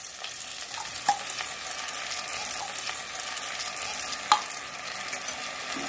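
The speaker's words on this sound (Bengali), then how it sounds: "অফ করে ভালো করে কিন্তু পটলের সাথে মিশিয়ে নিচ্ছি" Spice paste being stirred into pointed gourd in a wok, a soft steady scraping and faint sizzle close by, with two brief sharper knocks of the spoon against the pan.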